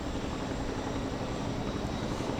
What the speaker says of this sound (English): The helicopter here is bringing over sandbags, a sandbag.